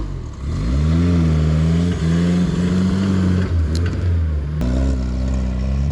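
An old 2.5 truck engine revs and labours as the driver rides the clutch off-road, a loud steady drone with rising and falling pitch that dips briefly near the end before surging again.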